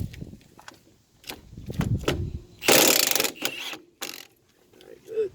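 A ratchet with a 21 mm socket works loose the front lower ball joint nut on a 2002 Jeep Liberty, giving close, rapid clicking bursts broken by short pauses and scraping handling noises.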